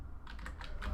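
Fingers tapping on a computer keyboard while building a menu in Ventuz 5 software, a quick run of close, light key clicks in a quiet room.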